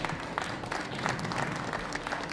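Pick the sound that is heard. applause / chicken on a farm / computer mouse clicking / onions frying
applause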